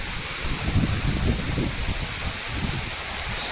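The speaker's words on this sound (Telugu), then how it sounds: "వర్షం పడుతుంది, నేనైతే వర్షంగా దొరికిపోయాను ఫుల్గా. చాలా గట్టి పడుతుంది చూడండి." Heavy rain pours steadily outdoors at sixth-century Buddhist rock-cut caves, a dense, close, continuous roar of falling water with no talking.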